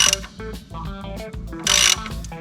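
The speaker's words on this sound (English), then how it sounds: "I'm going to start cranking on it a little bit" Repeated ratchet clicks in short bursts as a wrench cranks on a bolt of a Mazda Miata NA/NB engine during timing belt and water pump work, close and fairly loud with a brief hissy burst midway.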